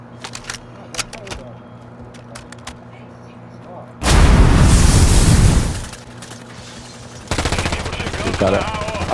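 Scattered sharp shots crack out in Call of Duty Warzone, then a loud sustained burst of gunfire and later rapid automatic fire, with people talking in between.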